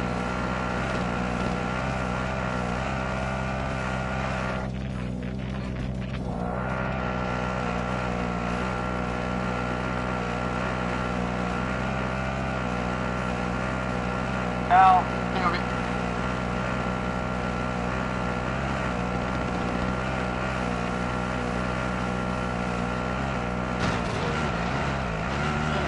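A helicopter in a video game hums as a steady loud droning rotor and engine for the whole stretch, with one short bump of noise midway and a shift in tone near the end, and no voices.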